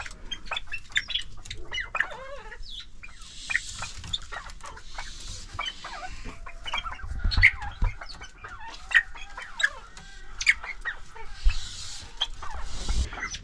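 Chickens cluck and squawk in an aviary, with frequent overlapping calls at a fairly close range over quiet background rustling.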